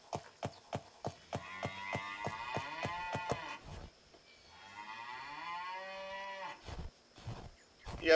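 Cows in the video game Minetest let out a run of mooing calls, with a quick series of sharp clopping or clicking beats early on, a long drawn-out moo in the middle and more thumps near the end.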